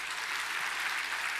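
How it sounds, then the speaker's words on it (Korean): A church congregation claps in encouragement during a Sunday worship service, a short burst of steady applause from many hands filling the room at moderate volume. "격려의 박수를 한번 해주세요."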